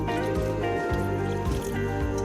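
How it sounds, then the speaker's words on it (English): Water is poured into a cooking pot of daal bhindi, a continuous liquid pouring and sloshing sound, close and fairly loud. "I'm going to add a little bit of water"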